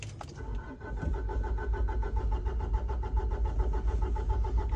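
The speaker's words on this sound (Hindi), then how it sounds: "भाई गाड़ी स्टार्ट नहीं हो रही।" A Mitsubishi Pajero cranks continuously in snow without catching, the starter motor churning in a steady, loud rhythmic whir from inside the vehicle.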